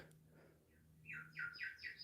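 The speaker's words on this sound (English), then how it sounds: "this video they're using bird chirping" Recorded bird chirps and high squeaks play from a TV, a faint short run of quick rising squawking calls repeating several times in the room.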